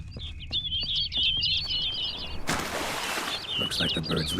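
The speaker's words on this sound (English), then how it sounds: "Looks like the bird's leading me somewhere." Bird chirping in The Witcher video game: rapid, bright twittering calls close by over a low ambient rumble, interrupted by a brief burst of rushing noise before the chirps resume.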